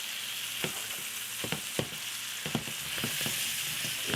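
Pork chops frying in a hot pan, a steady bright sizzle broken by scattered sharp pops and crackles, close up with no talking.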